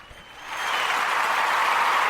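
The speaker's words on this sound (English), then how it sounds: "Here's a round of applause." Audience applause swells quickly from a quiet start into a loud, dense, hissing roar of many hands that holds steady without any talk.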